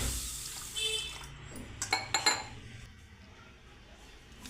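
Sugar being stirred into water to dissolve it for homemade wheat flour biscuits, with a run of close clinks and watery swirling in a bowl, several sharp taps clustered near the middle against a steady kitchen hiss.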